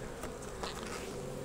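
Honey bees buzz steadily across hive frames in a beekeeping inspection, a dense, continuous hum holding close and even throughout, with a few brief rises in intensity.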